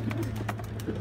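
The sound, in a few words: young pigeons cooing at a trapdoor loft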